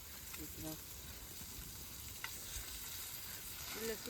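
Chicken fries in oil in a pan outdoors in a forest, giving a continuous low sizzle with faint scraping as pieces are turned, while people talk quietly in the background.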